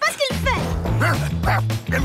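A cartoon dog gives a few quick yelping barks and whimpers, mixed in with animated voices talking over the short burst of commotion.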